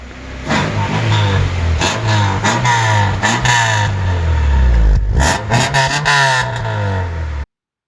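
A Honda car engine revs loudly in repeated surges, rising and falling over several seconds, then cuts off abruptly.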